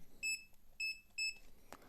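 A multimeter on continuity mode gives three short, high-pitched electronic beeps in an even rhythm, each lasting a fraction of a second, with quiet gaps between and a faint click near the end.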